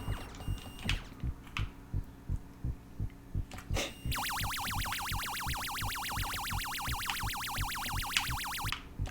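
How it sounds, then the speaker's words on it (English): Space Invaders arcade game sounds: the aliens' steady marching thump of low beeps, then a rapid warbling siren tone sweeping up and down over it. "the sound that the invaders themselves make, it's just an awesome soundtrack"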